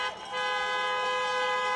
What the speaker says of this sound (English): honk for your next United States Senators, John Ossoff and Reverend Raphael Warnock.